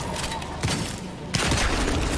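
Shotgun blasts from the Evil West video game, a dense burst of gunfire and booms with a loud blast near the middle, set among other combat noise.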